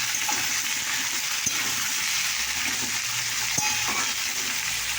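Pointed gourd and potato pieces frying in oil with a bay leaf give a steady, close hiss, with a few soft stirring clicks along the way and no talking.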